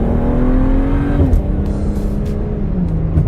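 A car exiting a highway at quarter throttle, a steady loud engine drone with a slowly falling pitch as it eases off, heard close from inside with road noise, no talk.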